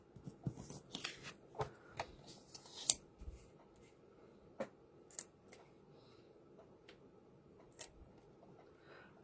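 Scissors snip paper pieces for a snowman Christmas card, with sparse, quiet cuts and small clicks scattered irregularly across a hushed room, busier at first and then spacing out.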